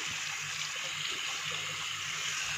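Water runs steadily from a tap to wet a towel at a bathroom sink, a continuous hissing splash at moderate level with no pauses or talking.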